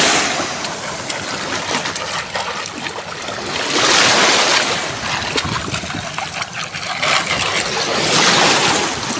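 Sea waves surging and washing around someone rinsing shells in the ocean, a loud continuous rushing with two swelling peaks.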